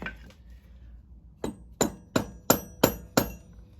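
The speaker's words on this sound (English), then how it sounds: "I'm gonna take my socket and give it a few whacks with a socket" Six sharp metal-on-metal whacks from a socket driving the crankshaft seal into a 1984 Honda Goldwing engine, close and loud, spaced about a third of a second apart after a brief faint clink near the start.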